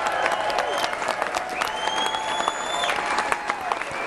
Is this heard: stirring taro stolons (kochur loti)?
no